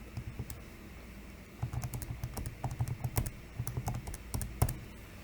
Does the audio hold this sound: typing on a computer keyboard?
yes